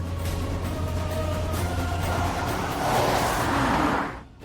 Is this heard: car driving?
yes